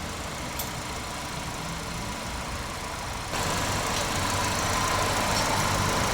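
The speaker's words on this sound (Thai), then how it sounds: "เครื่องยนต์นิ่งๆนะครับ เสียงเครื่องเบาๆ" A 2018 MG 5 car engine idles steadily, a smooth continuous rumble that grows slightly louder partway through, with no talking.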